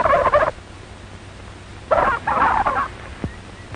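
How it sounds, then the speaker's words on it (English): A turkey gobbler on a farm lets out two loud, rattling gobbles, the first short and the second longer and broken, with a quiet gap between them and no voices. "He hears a turkey gobbler who flew over the fence of the turkey yard."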